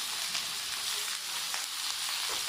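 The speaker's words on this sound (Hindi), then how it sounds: "अब आपने इसमें 3 दरमियाने साइज़ की प्याज जो है वो कटी हुई डाल देनी है।" Chopped onions frying in oil in a kadai, a steady faint sizzle with soft crackles running through the whole stretch, no voices over it.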